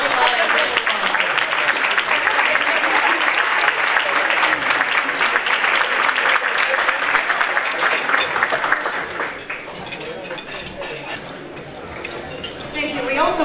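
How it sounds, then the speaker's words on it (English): A crowd at a women's networking event applauds its sponsors, loud sustained clapping from many hands with some clinking of dishes and cutlery, tapering after about nine seconds into scattered claps and chatter. "Give another round of applause for all of our event sponsors."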